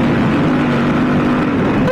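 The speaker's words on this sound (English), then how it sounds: "The engine is smooth." A Yamaha Ténéré 700 World Raid motorcycle engine runs steadily, heard from onboard as a loud, continuous droning hum with wind noise.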